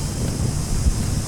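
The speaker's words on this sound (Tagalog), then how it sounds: "Ay, ang sarap. Sarap ng hangin." Steady wind on a Boracay beach during Typhoon Kristine buffets the microphone in a constant low roar, with faint surf or water sounds in the background.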